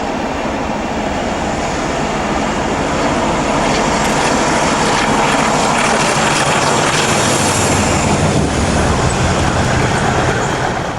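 British diesel locomotive 47350 working a Carlisle to Eastleigh MOD freight near Preston, a loud, steady engine roar with dense rumble that holds unbroken throughout, close by, with no talk.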